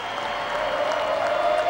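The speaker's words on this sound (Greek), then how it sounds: "χειροκροτείται η ΑΕΚ" A crowd applauds the AEK basketball team at a trophy ceremony, a dense, even wash of clapping from many hands that holds steady and swells slightly.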